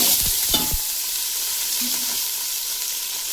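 Ingredients frying in oil in a pan for coconut milk rice, opening with a few sharp clatters and scrapes, then settling into a steady, close sizzle with no talking.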